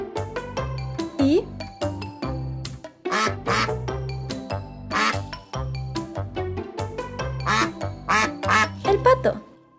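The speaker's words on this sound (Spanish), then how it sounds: "Es el pato" Repeated duck quacks in quick bursts over a steady musical backing, loud and close, with a few brief squeaky accents.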